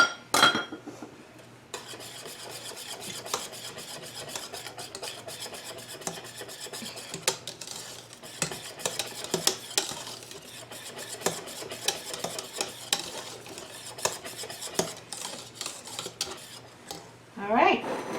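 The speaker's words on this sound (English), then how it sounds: "we're going to whisk those in" Butter being whisked into cranberry sauce in a cooking pot, a steady busy scraping and clinking of the whisk against the metal pot that runs continuously for most of the stretch with no talking.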